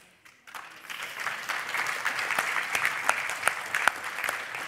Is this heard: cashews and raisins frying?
no